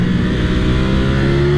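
A 2023 Ducati Streetfighter V4 S motorcycle accelerates out of a corner, its engine note climbing steadily in a short, loud, close burst with no voices.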